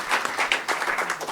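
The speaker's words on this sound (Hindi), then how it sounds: "उनके लिए एक ज़ोरदार तालियां हो जाए" Audience applause at the valedictory session of a national-level seminar in India, a brief, fairly dense burst of clapping from a seated crowd, with individual claps audible.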